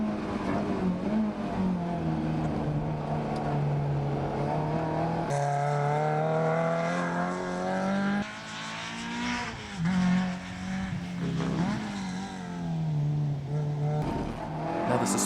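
A modified classic Mini with upgraded suspension drives fast, its engine revving hard through rising pitch sweeps and gear changes, loud and close, with a couple of brief drops in speed.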